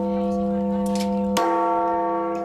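Valencia Cathedral's great hour bell, the Micalet, the largest bell of the Crown of Aragon at seven and a half tons, rings with a long sustained humming tone, then a fresh loud strike at mid-clip whose rich overtones swell and linger.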